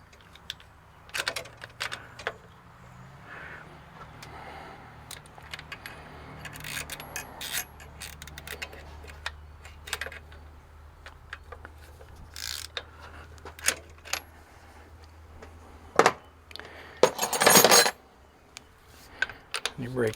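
A wrench breaks loose fuel line fittings on a Kenworth cabover truck, giving scattered metallic clicks and ratchet snaps at close range over a low background hum, with a sharper burst of clatter near the end.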